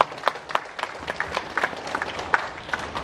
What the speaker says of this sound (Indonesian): Tepuk tangan dulu nih buat Bu Dian dan Subang.